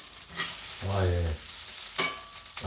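Onions frying in a pan of butter for a sausage and mash dinner, a steady sizzle with a few scrapes of stirring and a brief low hum, close by with no talk.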